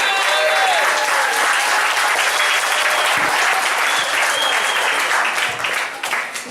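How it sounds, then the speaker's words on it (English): Audience applause for a retired principal at a recreation-center event, a dense, steady wash of many hands clapping close by for several seconds, with a few voices calling out and the clapping easing toward the end. "Let's give a great big round of applause for Fayetta Scott Ficklin,"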